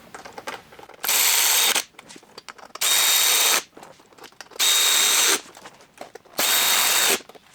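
A power driver runs in four separate bursts of about a second each, driving fender extension bolts on a 2023+ Speed UTV El Jefe, with short quiet gaps between bursts.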